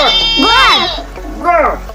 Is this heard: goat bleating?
yes